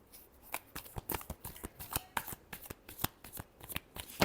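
A deck of tarot cards is shuffled close up in quick riffling bursts, a rapid series of crisp, papery flicks and taps at a soft volume.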